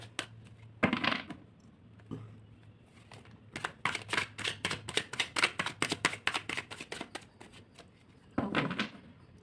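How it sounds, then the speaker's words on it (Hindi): Tarot cards are shuffled close by, a quick run of crisp riffling clicks in the middle framed by softer rustles of handling, with no talk. "शफल करते हैं कार्ड्स और फाइंड आउट करते हैं आपके लिए क्या बेस्ट रहेगा"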